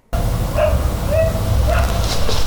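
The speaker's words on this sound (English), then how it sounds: "I heard a dog yowling like it was in pain" A dog outside yowls and barks loudly, with whimpering, high-pitched yips running continuously over a steady noisy background.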